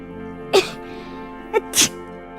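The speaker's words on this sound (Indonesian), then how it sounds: "Kamu kok bersin-bersin tuh kan?" A woman sneezes repeatedly, two sharp bursts and then a third, close and loud over a quiet indoor background with a faint steady hum.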